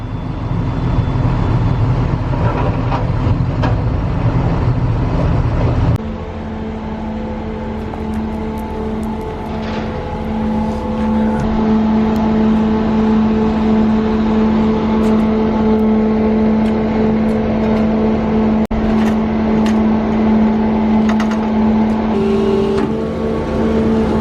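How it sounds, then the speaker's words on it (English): A farm tractor engine drones steadily in the yard as the trailer tips barley out, a loud continuous hum with a shift in pitch partway through. "Okay, so I'm just going to tip the trailer up."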